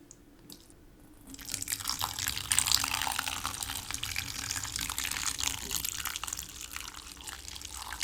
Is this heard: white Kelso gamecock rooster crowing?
no